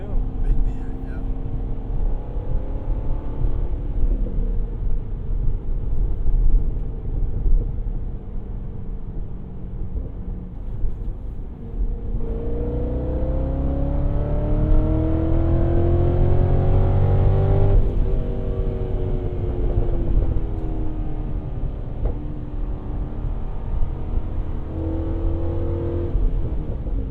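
Chevrolet Corvette C6 Z06 with a high-revving V8 engine, heard from inside while driving: a steady loud drone with rising pitch sweeps as it accelerates through the gears, and people talk over it.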